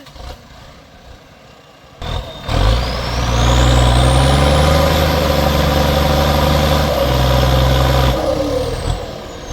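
A 7610S tractor ploughing through a muddy orchard and bogging down in the mire without four-wheel drive. The engine is quiet at first, then roars up loud and close and holds a heavy, straining drone before easing off near the end.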